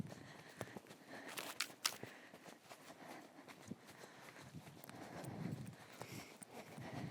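A horse's hooves clop in a steady, rhythmic posting trot at close range while being ridden, with faint outdoor ambience and no voices.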